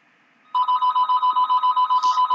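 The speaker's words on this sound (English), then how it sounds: "The phone should not be ringing right now." A telephone starts ringing after a moment of quiet, a loud, close electronic trill pulsing in quick regular bursts that continue to the end.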